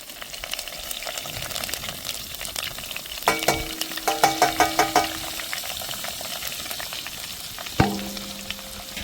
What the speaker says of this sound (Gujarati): આપણે વઘાર માટે લીધેલો બધો મસાલો આપણે તેલમાં નાખી દઈશું